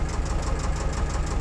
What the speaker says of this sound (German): der Lader, wie gesagt, Zweizylinder, das ist der Deutz Motor mit 30 PS